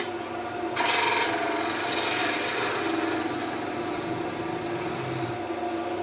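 A knife makes a peeling cut into wood while carving a small Christmas tree, giving one close, dry rasping scrape of about two seconds that fades into quiet.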